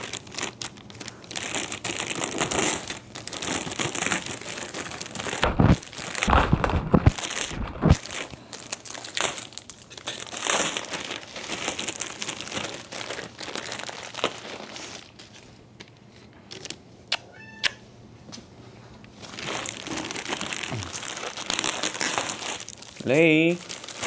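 Plastic packaging crinkles and rustles loudly in bursts during the unboxing of a limited-edition Manley Voxbox Pride Edition, with people talking over it and a brief quiet stretch midway.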